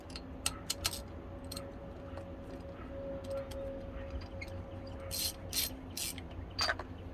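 Ratchet clicks tightening a spark plug on a 2013–2020 Ford Fusion, a quiet run of short mechanical clicks in bursts with pauses, close by, alongside a faint steady hum.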